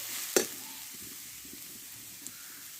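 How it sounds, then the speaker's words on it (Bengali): Ash gourd and mung dal being sautéed in a pan with turmeric and salt: a quiet, steady sizzle with soft stirring, plus one sharp scrape of the spatula near the start. "আর স্বাদ মতো লবণ দিয়ে দেবো ভালো করে কষতে থাকবো"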